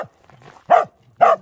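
A corgi gives a soft whine, then two sharp, close barks about half a second apart, with faint whimpering between them.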